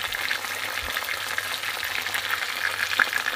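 Dorado fish frying in hot oil, a steady close crackling sizzle with bright spitting pops that runs unbroken from start to end, with no voices.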